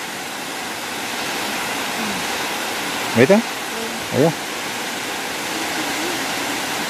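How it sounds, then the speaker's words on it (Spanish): A small mountain waterfall at a dam in San Luis pours as a steady broadband rush of falling water, with someone briefly speaking over it partway through. "También hay una cascadita ahí que baja de aquel lado."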